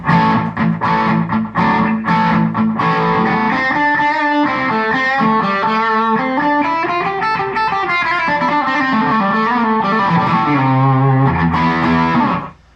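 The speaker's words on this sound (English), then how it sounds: "So that is actually using like a space echo, basically, is what that is." Electric guitar playing a melodic line through a Line 6 HX Effects unit set to a Space Echo-style tape echo, notes repeating in short slapback trails, loud and continuous before cutting off near the end.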